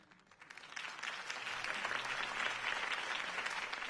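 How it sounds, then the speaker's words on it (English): Crowd applause after a campaign speech in Batman The Telltale Series, a dense, steady clapping that swells up quickly from quiet and holds at a moderate level. "could have heard that applause"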